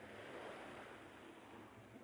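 Sea waves washing against a shoreline, a continuous soft rushing surf with wind noise over the microphone, faint and steady with no voices.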